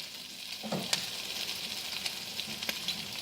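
Sausage frying in a pan for an Italian pasta salad, a steady close crackling sizzle with a few brief stirring clatters and sharp pops, no talk.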